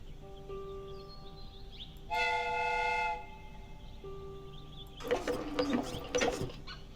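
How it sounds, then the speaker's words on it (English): In a Sherlock Holmes video game, the steam whistle of a replica train blows one steady, bright tone for about a second over faint mechanical humming, then clanking and ratcheting metal noises follow. "The steam whistle is ready to be used."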